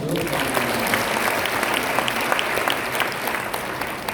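Sustained audience applause at a seminar, a dense steady clatter of many hands clapping throughout, fairly close and even in loudness with no talk over it.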